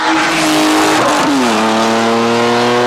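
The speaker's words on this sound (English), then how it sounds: "This is my 1998 E36 M3 convertible" A 1998 BMW E36 M3 convertible engine revs loudly nearby, dipping briefly before climbing into a sustained high, steady roar.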